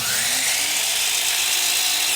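Old Harbor Freight power tool starting up and running: a loud, close, continuous high whine and rush, steady throughout with no talk.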